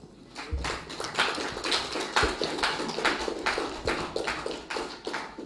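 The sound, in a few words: hand clapping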